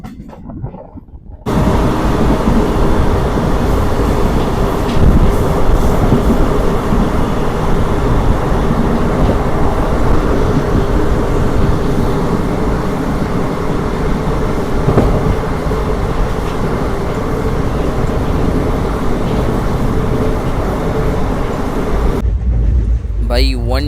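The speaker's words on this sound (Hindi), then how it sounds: "110 हमारी ट्रेन जो है वो हिट कर रही है" An ICF passenger coach of the Khandesh Express in Maharashtra running at about 110 km/h, a loud sustained rumble and rattle heard from inside, starting abruptly after a quiet moment and fading at the end.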